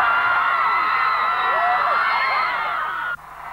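More than 10,000 fans scream and cheer outside the Sydney Opera House on Michael Jackson's 1996 arrival, a loud, dense, sustained wall of high-pitched shrieks that drops off abruptly near the end.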